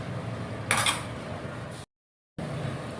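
A lid set onto a pan of paneer being sautéed, giving a brief metallic clatter in the middle of steady cooking noise, followed by a short gap of silence.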